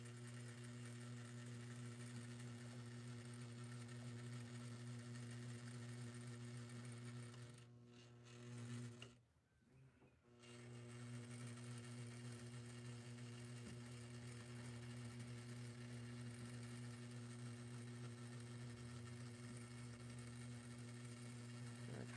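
Sewing machine stitching lace onto a wedding dress, a steady close mechanical hum and needle whir running continuously, with a brief pause in the middle before resuming.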